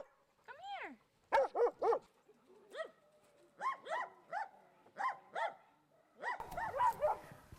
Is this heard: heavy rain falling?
no